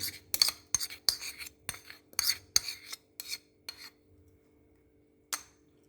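A spoon mixes chicken tikka marinade of yogurt and spices in a bowl, giving close, irregular clinks and scrapes in quick bursts, then a pause before one final knock, with no voices.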